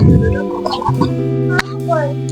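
Many Pankhiraj ducks at a farm house in Bandarban call and cluck together at close range, layered and overlapping, while a person talks over them.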